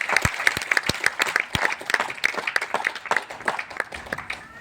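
Audience applause in a hall at a business meeting, a scattered mix of distinct hand claps and fuller clapping, moderately loud and uneven, trailing off with a little background chatter.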